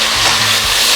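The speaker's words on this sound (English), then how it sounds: "Give it another couple minutes for the tomatoes to cook." Roma tomatoes with a teaspoon of seeds stirred in a pot for chickpea and quinoa soup, giving a loud, close, steady frying hiss that fills the whole brief moment.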